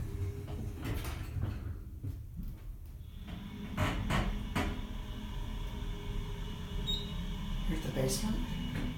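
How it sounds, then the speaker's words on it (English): A creaky Otis/Lins hydraulic elevator descending to the basement, with low rumbling, scattered creaks and clunks throughout, and faint talk in the background. "Going on to the basement. Oh, creaky elevator."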